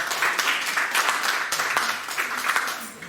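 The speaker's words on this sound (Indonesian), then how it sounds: "Tepuk tangan saudara ya" A church congregation claps and applauds, a moderately loud wash of hand claps with a few sharper individual claps standing out, continuous for a few seconds.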